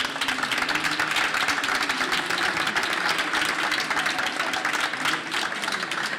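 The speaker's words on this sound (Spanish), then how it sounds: "por favor, un aplauso porque ha sido la mejor moderadora de todas las mesas del día." An audience at a round-table session on marketplace returns applauds the moderator, a steady, dense burst of clapping lasting several seconds, heard on its own without any voices.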